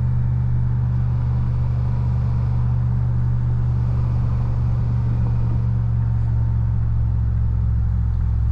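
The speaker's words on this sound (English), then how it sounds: "Sort of engine braking on the way down." A car descends a washboard dirt road in second gear at about 22 mph, its engine braking with no brakes applied, a constant deep droning rumble with a steady low hum and no voices.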